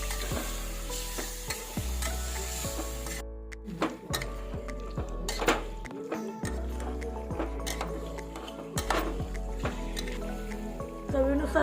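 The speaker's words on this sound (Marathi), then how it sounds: "त्यात आपण चिकन टाकूया। हलवून घेऊया।" Chicken stirred in a hot cooking pot with garlic and turmeric, sizzling and frying steadily while a spoon scrapes and clatters against the pot in repeated strokes, close and fairly loud.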